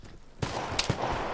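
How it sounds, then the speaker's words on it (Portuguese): Gunfire in the online shooter game Vigor, a few sharp shots cracking in quick succession over a steady game background after a quiet start. "mas é tiro de todo lado"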